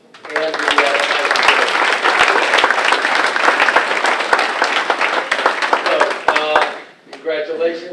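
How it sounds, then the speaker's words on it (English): Sustained audience applause fills a Gridiron Greats football induction ceremony hall, dense steady clapping from a large crowd with some voices mixed in, tapering briefly near the end before picking up again. "Round of applause."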